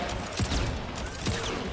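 Gunfire from RoboCop in a Mortal Kombat 11 match at an EVO top 8 tournament: a dense, loud burst of fighting-game shots with two sharper bangs, mixed with crowd and arena noise.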